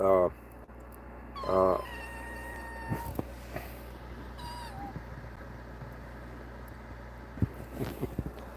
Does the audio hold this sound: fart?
no